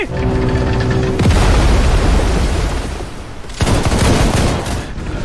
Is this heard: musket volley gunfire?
yes